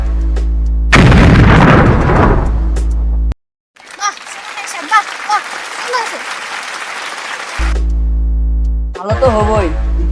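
A staged bomb explosion effect in a comedic skit: a loud broadband blast roars for about two seconds, followed by crackling, debris-like noise with faint voices, then another heavy burst near the end.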